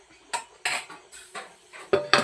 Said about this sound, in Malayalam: ഇതൊന്ന് നമുക്ക് അടച്ചു കൊടുക്കാം.